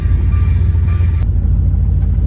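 A truck engine fitted with a turbo and a catalytic converter but no muffler rumbles loud and close, with a steady deep low drone and a brief hiss partway through.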